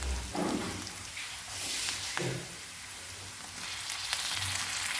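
Onion sizzles as it fries in a pan, a continuous close hiss with a few brief stirring scrapes and no speech.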